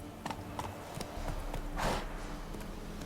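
Roach, a horse in The Witcher 3, gallops with rapid clip-clop hoofbeats over steady game ambience, with a whooshing swell midway.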